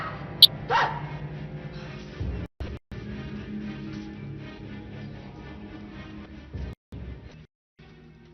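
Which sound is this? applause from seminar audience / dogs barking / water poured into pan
dogs barking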